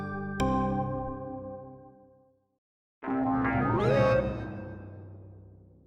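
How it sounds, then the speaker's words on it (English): A sound effect standing for the interrobang punctuation mark begins with a single plucked, decaying tone. After a brief silence comes a warbling, meow-like electronic swoop that bends upward. "The noise you just heard is the sound of the interrobang."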